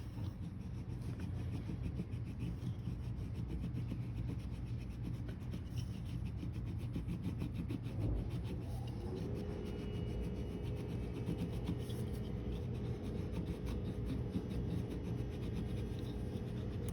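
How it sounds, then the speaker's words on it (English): A burnishing tool rubs steadily around the edge of a domed copper piece, making a continuous close scraping and rasping texture that runs evenly throughout with no talking. "I'm kind of holding it at an angle like this as I burnish around this edge"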